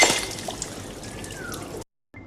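Cesium, an alkali metal, is dropped into water, giving a short splashing, fizzing burst with a brief rising whistle-like tone, then a moment of silence before a faint tail.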